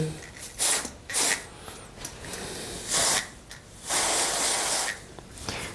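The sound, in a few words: cold spray sprayed on chocolate ribbons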